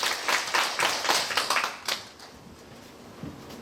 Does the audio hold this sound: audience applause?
yes